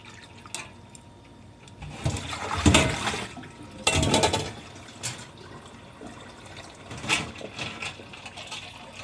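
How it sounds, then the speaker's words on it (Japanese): Hand-cut nihachi soba noodles being rinsed and chilled in ice water, with sloshing, splashing water in close, uneven surges and a few sharper splashes, no voices. "流水で洗った後、今これは氷水で締め上げています。"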